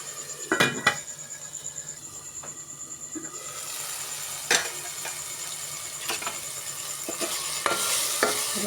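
Ginger garlic paste and masala frying in oil for a fish curry, a soft steady sizzle under intermittent metal spoon scrapes and taps against the pan.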